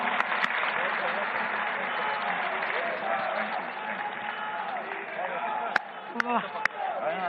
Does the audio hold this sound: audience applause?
yes